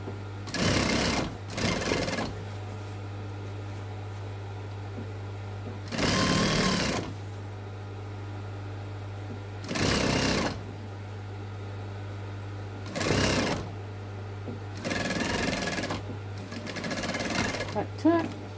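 A sewing machine edge stitches a zip onto a garden seat pad in several separate bursts of rapid mechanical whirring, each lasting about a second. A person talks between the runs over a low steady hum.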